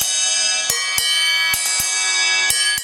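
Shops CMC 55 hi-hat bottom cymbal used as a crash for a ping sound, struck six or seven times at irregular intervals, each strike giving a bright, close, bell-like ping with long shimmering ring underneath, no talking.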